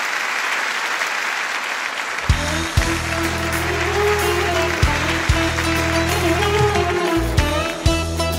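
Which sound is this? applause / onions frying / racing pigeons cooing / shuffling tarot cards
applause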